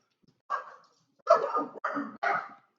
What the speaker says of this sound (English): I don't even know what she's barking at.